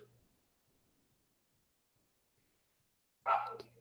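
Near the end of an otherwise near-silent stretch, a dog gives a single short, sharp bark in the background.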